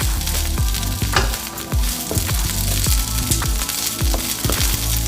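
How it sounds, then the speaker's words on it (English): Asparagus spears sautéing in a hot pan, a steady loud sizzle with repeated clanks and scrapes of stirring on a regular beat, close up and with no voices. "get a nice little saute on these on this asparagus"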